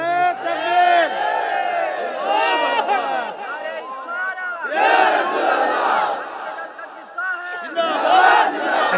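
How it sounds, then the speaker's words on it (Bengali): A large crowd at an Islamic religious sermon gathering loudly chants the takbir in unison, rising in repeated powerful swells of massed voices, with a lone voice leading between them. "দুইটা হাত উঠে আল্লাহরে দেখে আর জবানটা খুলে জোরে একটা তাকবীর দাও জোরে"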